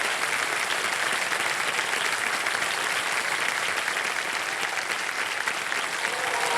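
A studio audience on a Hindi TV quiz show set breaks into steady, dense applause to welcome actor-director Rishab Shetty, a continuous wash of clapping that holds evenly from start to finish with no talk over it.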